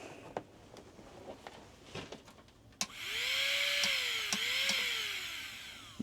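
A Marathon micromotor dental handpiece spins up with a sudden whine after a collet change, running steadily at high pitch with a brief dip in speed partway through, close and fairly quiet, preceded by faint handling clicks.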